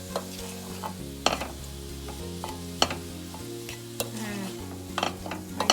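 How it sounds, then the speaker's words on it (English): Pepper flakes and roasted ground cumin stirred into a pan of samosa filling, with steady scraping and stirring sounds, a few sharp utensil clinks and a low sizzle. No one speaks. "We're gonna go in with our pepper flakes, roasted ground geera or cumin. We're gonna mix a little."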